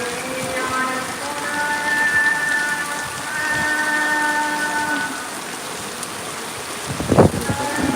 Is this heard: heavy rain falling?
yes